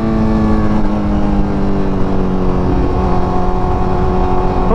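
A car engine accelerates steadily through the gears while driving, a loud continuous drone with rising harmonic whine, close and alone without voices.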